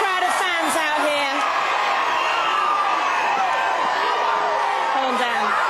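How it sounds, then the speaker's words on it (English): A massive crowd of fans gathered outside the Big Brother house whoops, yells and cheers continuously, loud and close, with excited shouts rising above the roar. "You have got such a massive, massive, massive crowd of fans out here."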